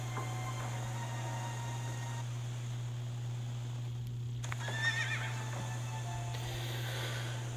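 A horse in a Game of Thrones video game whinnies in a quavering call with hoof clip-clops, moderately near, over a steady low hum and quiet background.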